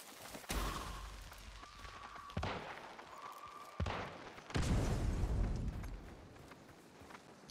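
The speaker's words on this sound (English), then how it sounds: "I saw a gunfire from here." Gunfire in a multiplayer video game: several sharp, loud shots spaced a second or two apart, each followed by a short rumbling decay, with no talk over them.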